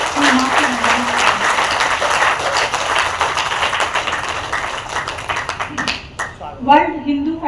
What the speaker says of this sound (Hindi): दोनों हाथ ऊपर उठाकर ताली बजाकर अनुमति दे दीजिए